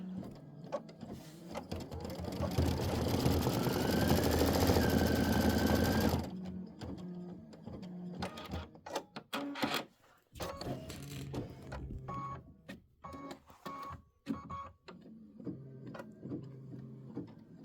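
A computerized embroidery machine stitches tail feathers on a snow bird quilt block: a loud continuous run for about six seconds, then quieter stop-start whirring, clicks and short mechanical bursts.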